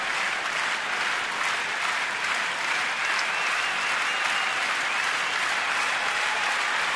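A big baseball crowd at a Marlins game in Washington applauds, a dense, even roar of hands that holds steady and full throughout, with no voice on top.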